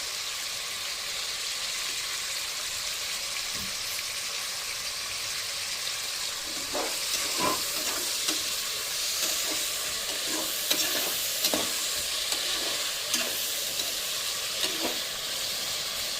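Tomatoes fry in a pan with a steady close sizzle, while a spoon stirs them in a run of irregular scraping clinks partway through.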